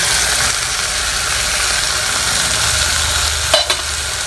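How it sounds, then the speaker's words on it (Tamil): Kodo millet kichdi frying in a pan while being stirred, a loud continuous sizzle close to the microphone with a couple of sharp utensil knocks near the end. "இத நல்லா கிண்டி விட்டுருங்க"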